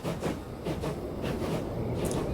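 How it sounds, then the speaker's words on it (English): Game train from Transport Fever 2 running steadily close by, a continuous loud rumble with periodic rhythmic clatter pulses, no voices over it. "that train's working, and it should be able to do a decent speed"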